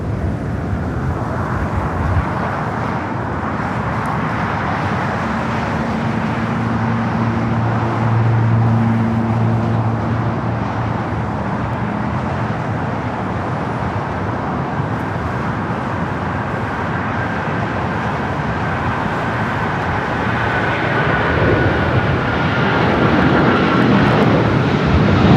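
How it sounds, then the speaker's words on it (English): An American Airlines Boeing 777-200ER bound for Miami rolls for takeoff at LAX, its big engines building into a loud, sustained roar with a rising whine and a low rumble that swells toward the end. "up next is that American 777-200ER. Flight heading to Miami"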